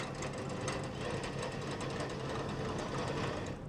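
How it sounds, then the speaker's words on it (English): A mixer whirs steadily as cream is beaten until firm, a dense continuous buzzing drone up close with no pauses and no voices. "I would like to beat that until the cream is very firm"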